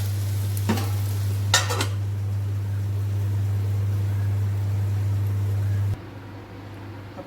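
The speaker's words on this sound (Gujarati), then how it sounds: "એક એક કરીને બધા ભીંડા ધીમા તાપે ચડવા દઈશું આને." Stuffed okra (bhindi) cooks in a pan over a low flame, giving a steady close sizzle with a couple of brief stirring clatters early on, before the sizzle drops away near the end.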